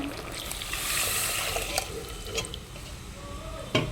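Tap water running while a masala grinder jar is rinsed in a kitchen, a close splashing, hissing stream with a few clinks and knocks near the end.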